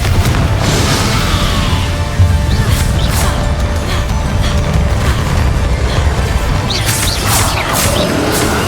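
Fiery Confringo spell blasts in the Hogwarts Legacy video game, heavy crackling booms and crashes layered over dense continuous combat noise, with bursts of impact near the start and end.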